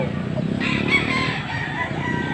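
A young stag gamecock crows loud and close at a rooster market in Bocaue, one sustained harsh call filling the moment, with no talk over it.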